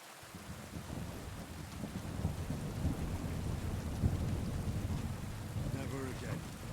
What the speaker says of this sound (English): just sit or relax and just listen to rain like this